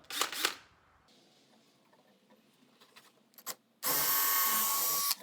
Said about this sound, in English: So now we just got the pre-drill our holes to mount to the wall. Let's get to drilling.